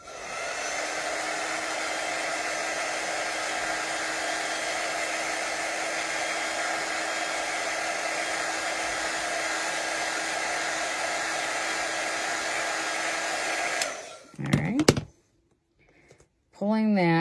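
A hair dryer blowing on a Chalk Couture transfer, a loud steady whine and rush for about fourteen seconds before cutting off, followed by brief handling noises and a restart.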